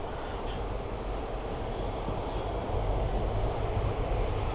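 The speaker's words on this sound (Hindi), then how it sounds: "ये ऊपर से मेट्रो जा रही है" A metro train passes overhead on an elevated line near Tokyo Tower, a continuous low rumbling roar that swells slightly toward the end, heard from street level; no talking.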